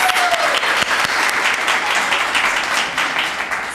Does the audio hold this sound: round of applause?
yes